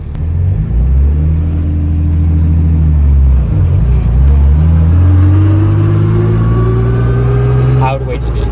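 BMW E36 M3 engine revving under acceleration while being driven, a loud, close, sustained drone rising steadily in pitch through the gear, with people talking inside the car.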